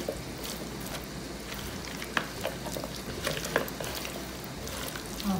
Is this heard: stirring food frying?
yes